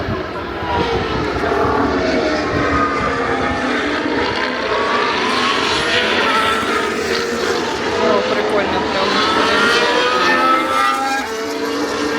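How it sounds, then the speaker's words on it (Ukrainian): Go-karts racing on a track in Japan, their small engines buzzing and revving in rising and falling waves as they pass, a steady loud drone over the whole stretch. "чуваки на картингу кататися"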